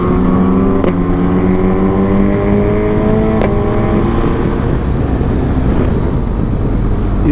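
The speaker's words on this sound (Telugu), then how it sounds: "ఇది సూపర్ చార్జ్డ్ బూసా." A supercharged Suzuki Hayabusa superbike engine runs loud and close with steady harmonic drone, rising revs and a couple of sharp transient pops, no talking over it.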